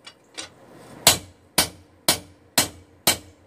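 Sharp metallic hammer strikes ring out at a steady pace while forging a steel gladius blade, two softer taps followed by five loud, evenly spaced blows, each with a short ringing decay.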